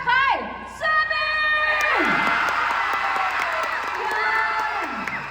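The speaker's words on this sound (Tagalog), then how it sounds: "Malakas ang palakpakan at sigawan para kay Sabi!" Crowd at a fiesta cheering, whooping and applauding loudly and continuously, with shouting voices layered over a steady roar of clapping.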